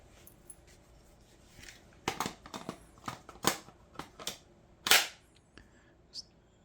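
A Ryobi 18-volt ONE+ battery pushed into a cordless 400-lumen work light, giving a series of sharp plastic clicks and snaps, with three crisp latching clacks standing out against a quiet room.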